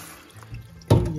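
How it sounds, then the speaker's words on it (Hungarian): Potatoes rinsed under a running kitchen tap, with soft trickling and dripping that swells into a louder gush of water splashing over them near the end. "ezt még egyszer itt egy kicsit a csapnál megmosom még egyszer"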